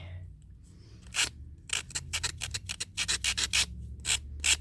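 Cured resin is sanded by hand in quick, scratchy strokes, a burst of short rasping rubs in an uneven rhythm, close and fairly quiet, with no speech over it.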